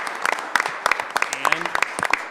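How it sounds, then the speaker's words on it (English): Scattered, uneven clapping from an audience at a school board meeting, bursts of claps over a couple of seconds with some voices mixed in. "Let's give them a round of applause."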